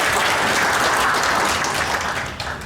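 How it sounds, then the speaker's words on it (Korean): Audience applause welcoming a senior Buddhist monk at a Buddhist forum for national defense, a steady dense wash of clapping from a large crowd that holds for nearly three seconds before easing slightly. "큰 박수 부탁드리겠습니다."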